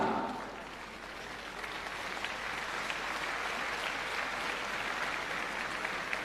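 An audience at a Delhi government school ceremony applauds students who qualified for JEE and NEET, steady, sustained clapping from a large crowd throughout, with no break.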